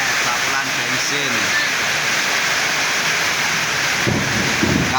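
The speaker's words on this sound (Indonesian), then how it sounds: "Alhamdulillah hujan. Oh, hujan bos." Heavy rain pours steadily outside a motorbike repair shop, a loud hissing wash with no letup, while a few voices speak faintly underneath.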